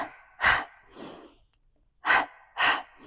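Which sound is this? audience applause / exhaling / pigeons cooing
exhaling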